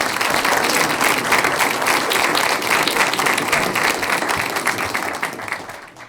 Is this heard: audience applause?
yes